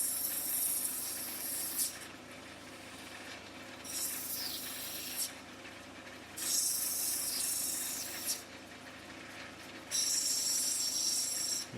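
An opal is shaped on a grinding wheel in four separate bursts of harsh, hissing abrasion, each lasting one to two seconds, over a low, steady machine hum, close and clear.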